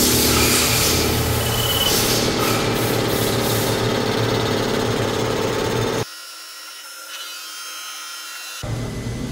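A lathe turning Titan 150 V2 connecting rods, a steady whirring, rubbing machine drone with scraping tool noise that cuts out abruptly about two-thirds through, then resumes faintly near the end.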